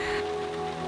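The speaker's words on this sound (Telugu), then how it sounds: "ఈ వర్షంతో బాబాసాహెబ్కి ఉన్న బంధం అటువంటిదమ్మా" Steady rain falls in a brief, dense wash, a continuous even patter filling the moment with no voices.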